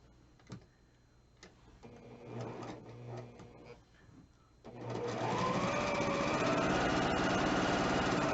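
A sewing machine stitches quilt pieces corner to corner, starting with a few short bursts and quiet clicks, then running in a steady, loud, continuous whir for the final seconds.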